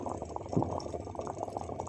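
Water added to a pan of meal maker curry, giving a steady close bubbling and sizzling that runs throughout without speech.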